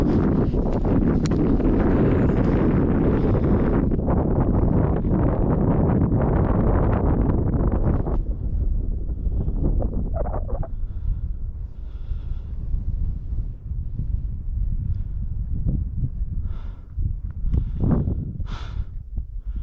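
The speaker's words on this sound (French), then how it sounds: "Il y a un peu de vent qui se lève" Wind gusting against the microphone on a mountain hike up the Pic du Midi de Bigorre, loud and buffeting for the first several seconds, then easing into a lighter, steadier breeze with brief faint sounds on top.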